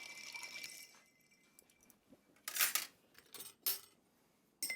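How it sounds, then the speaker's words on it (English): Ice clinking and rattling in two mixing glasses as cocktails are stirred at a bar, a few bright bursts of knocking cubes separated by quieter moments, close and alone. "So we'll ice the mixing glasses and give them both a stir."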